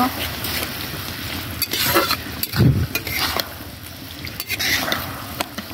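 Koi fish curry frying in oil while it is stirred, giving a steady close sizzle broken by scraping and squishing strokes of the spatula against the pan.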